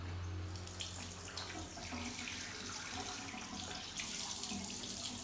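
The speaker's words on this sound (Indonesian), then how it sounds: "Selanjutnya kita akan melakukan proses cuci tangan di bagian 1 dengan cara WHO." Hands are washed under a running tap using the WHO handwashing method for aseptic technique: a steady, continuous rush of water splashing into a sink, fairly close, with no talking.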